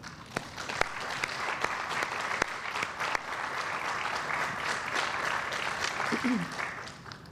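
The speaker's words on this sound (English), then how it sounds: "We owe all of these individuals and foundations a big round of applause" Audience applause at a Chicago civic event, a steady wash of many hands clapping at moderate distance, continuous and even for several seconds with a few sharper claps standing out.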